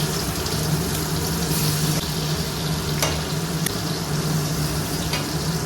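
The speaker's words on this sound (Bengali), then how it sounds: "কড়াই তেলটা দিয়ে দিই প্রথমে, কড়াইটা বেশ গরম হয়ে গেছে" Shrimp fry in hot oil in a well-heated kadai, a loud, steady sizzle filling the whole stretch with a few sharp crackles and pops breaking through, no voices over it.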